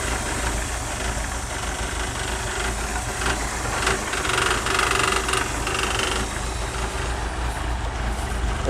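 A 1967 Mercury Cougar XR7 with a 289 four-barrel V8 idles steadily, a smooth, even rumble held close and constant with no knocking or tapping, exhaust running through short pipes underneath.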